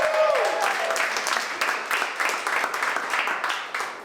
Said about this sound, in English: please, give her a round of applause for just being here.